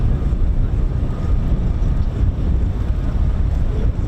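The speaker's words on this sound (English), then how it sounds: "That sounds like a running F-15." An F-15 Strike Eagle jet engine runs at RAF Lakenheath, a steady broad low roar heard from a distance and blended with wind buffeting the microphone, continuous throughout with no voices.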